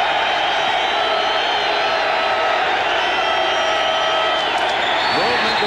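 Stadium crowd noise fills the air at a 1992 Raiders at Eagles football game, a loud, constant roar from the stands behind the defense, with a commentator speaking over it.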